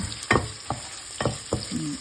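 Meat sizzles steadily with garlic in a hot pan up close, broken by a few scraping stirs of a utensil against the metal, while cooking pancit guisado.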